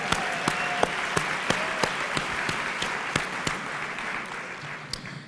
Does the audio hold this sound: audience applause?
yes